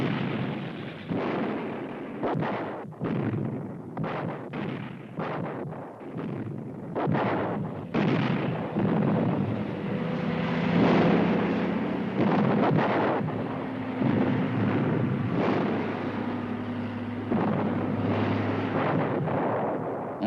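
German artillery fire in the WWII Battle of Italy near Monte Cassino: a rapid series of heavy booms and blasts early on, then a deep rumbling barrage with wind noise and distant roar, loud and without speech.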